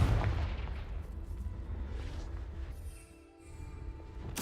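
A Confringo fire-blast spell bursts in the video game Hogwarts Legacy, a loud booming explosion with a rumbling tail that dips briefly, then swells again.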